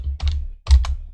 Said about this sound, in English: we can type